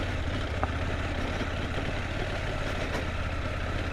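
A 2023 KTM 790 Adventure motorcycle engine rumbles low and steady while riding offroad, a continuous close, throaty drone with no talk over it.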